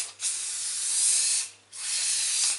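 Two close, loud bursts of food-grade grease spray go into a cannelé mould, each a sharp hiss lasting over a second, with a short pause between them.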